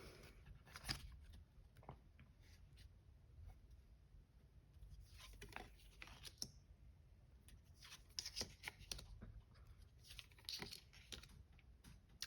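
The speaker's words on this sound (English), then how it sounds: "Let's shuffle this one a bit because I keep showing the same cards." A tarot card deck is shuffled by hand, quiet papery riffles and soft flicking patters running steadily for several seconds, close but faint, with no voices.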